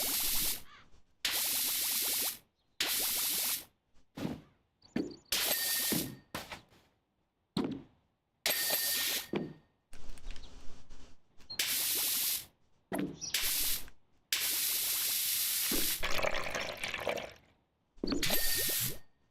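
Bursts of a pressure washer spraying metal cleaner onto rusty surfaces in the game Power Wash Simulator, a loud steady hiss in repeated on-off blasts, each lasting one to two seconds with short silent gaps between.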